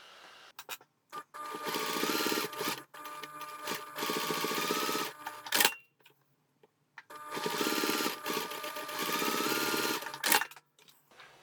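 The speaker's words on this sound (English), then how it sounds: "We can take this to the machine now and stitch about 5 to 7 millimeters from the edge." A sewing machine stitching fabric near the edge in two steady runs of about four seconds each, whirring close and loud, separated by a short pause with clicks and handling.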